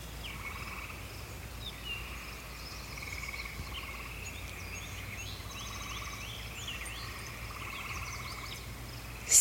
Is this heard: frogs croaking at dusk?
yes